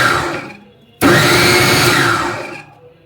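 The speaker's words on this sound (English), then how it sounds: "In case you are using a mixer, just pulse it and do not allow it to become a smooth paste." A kitchen mixer pulsing a coarse falafel mixture: a short motor burst, a brief pause, then a loud, close whirring pulse lasting about a second and a half before winding down.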